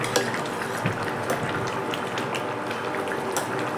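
Banana flower curry with mashed lentils simmering in a pot, a steady close bubbling and sizzling hiss with faint scattered clinks, no talk.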